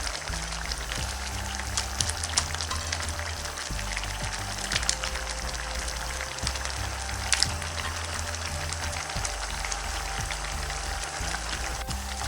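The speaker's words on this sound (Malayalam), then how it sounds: "ഇപ്പോൾ ഗ്രേവി തിളച്ച് വന്നിട്ടുണ്ട്." Curry gravy for prawn malai curry bubbling and sizzling steadily in a pan, a soft continuous crackle with occasional louder pops, close up and without talk.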